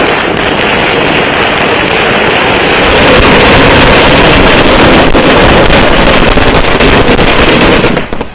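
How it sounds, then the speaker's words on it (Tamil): Firecrackers burst in a dense, continuous crackling barrage at a vote counting centre celebration in Erode, loud and close, growing even more intense midway before cutting off. "வாக்கு எண்ணிக்கை மையத்தின் முன்பாக பட்டாசு வெடித்து கொண்டாட்டத்தில்"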